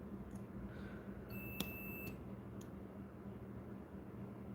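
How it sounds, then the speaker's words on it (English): A multimeter set to diode check mode gives a single short high beep, faint against a steady background hum and hiss. "I thought the point of diode check is that it beeps when I check a diode."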